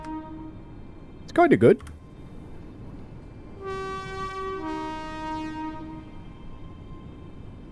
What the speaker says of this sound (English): Here's the horn for Indian Railways boy.